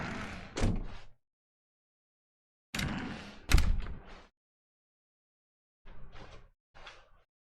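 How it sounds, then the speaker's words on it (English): Doors in The Stanley Parable video game produce several separate thuds and rattling clunks with silent gaps between them: a pair at first, a louder double knock mid-way, then two softer ones. "When Stanley came to a set of 2 open doors, he entered the door on his left."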